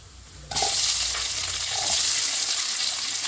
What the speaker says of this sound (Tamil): இப்போ ரெண்டு பெரிய வெங்காயம் கட் பண்ணதை இதில் ஆட் பண்ணிக்கிறேன்